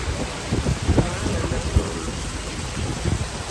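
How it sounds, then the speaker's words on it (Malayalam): Heavy rain pours in a steady dense hiss near an airport in the Maldives, with occasional low rumbles and thumps mixed into the downpour. "നല്ല മഴയാണ്"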